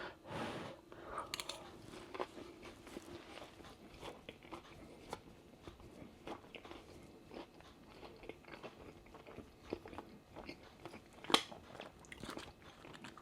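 Someone eats crispy Iceland fake-away food close to the mic, with a loud first bite, then soft repeated crunching and chewing, plus a sharp crackle near the end.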